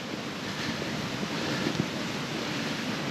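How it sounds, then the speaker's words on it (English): A fast-flowing stream rushes steadily nearby, a dense broadband wash of moving water mixed with some wind noise and no speech. "Down here, it's quite a fast flowing stream here."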